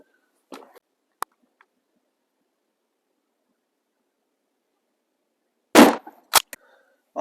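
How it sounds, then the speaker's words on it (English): Gunshots fired at a target during a firearm sight demonstration: a couple of faint early reports, then one loud sharp blast followed quickly by a second, with long silence between. "So I'm going to go up and put a 4th shot down"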